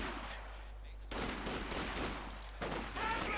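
Rifle fire crackles in Company of Heroes 2, with bursts of overlapping shots arriving in two dense volleys that break out after a quieter stretch, sounding sharp and somewhat distant.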